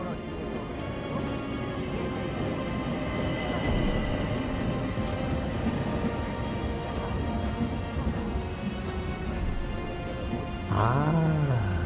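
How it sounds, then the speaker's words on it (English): The Orient Express runs along in a video game, a loud continuous rolling clatter and rumble of wheels on track with a tonal hum, ending in a short rising-and-falling whistle-like tone. "Today, the train is limited to 100 kilometers per hour."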